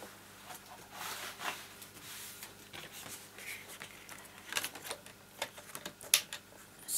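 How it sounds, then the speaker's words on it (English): A paper trimmer scores and cuts cardstock for a handmade card, producing quiet irregular scratchy swipes and light clicks up close, with brief sharper snaps near the end and no talk. "I am going to use my trimmer to do my scoring and my cutting."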